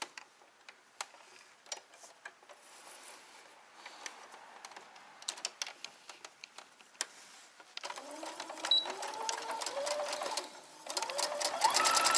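A sewing machine stitches a row across a bag made from a bed sheet, starting as scattered ticks and short bursts, then running steadily and louder in the final seconds.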